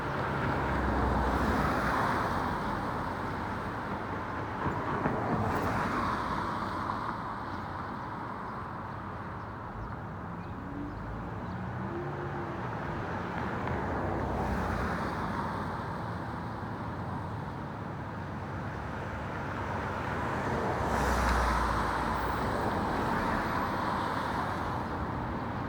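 Rush-hour road traffic rolls past in a continuous roar, with vehicles swelling and receding every few seconds, set against a steady wind-buffeted outdoor background and no clear voices.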